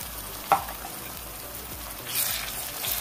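Ginger garlic paste fries in a pan on a medium flame for a prawn fry, giving a soft, steady sizzle close by. A single sharp clack of the stirring spoon comes early, and the frying grows a little louder toward the end.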